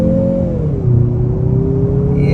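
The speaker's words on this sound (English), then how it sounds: "We'll step in the gas once we're situated." A 2024 Mazda CX-50 Turbo Premium pulling away from a tight turn, its engine note droning steadily and rising slowly under load, loud and close from inside the cabin, with no talk.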